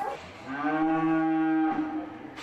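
A cow on a Scottish grassland farm gives a single long, loud, nearby moo that rises, holds steady and then cuts off, with quiet outdoor surroundings.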